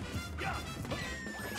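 A Pac-Man forward smash landing in Super Smash Bros, a sharp impact crash amid busy game sounds and music, short and punchy.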